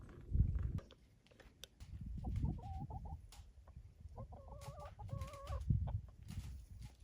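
Chickens on a small farm cluck and chatter close by in short, irregular bursts, with a few higher drawn-out calls standing out over the flock.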